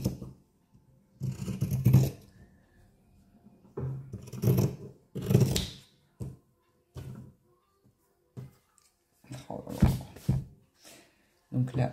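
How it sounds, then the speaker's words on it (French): Scissors snip through fabric for a small sewn soap pouch in short separate bursts of cutting, close and fairly quiet, with pauses between, while someone talks alongside. "Peut-être que vous voyez quand je coupe à plat ou pas."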